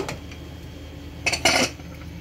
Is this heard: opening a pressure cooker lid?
yes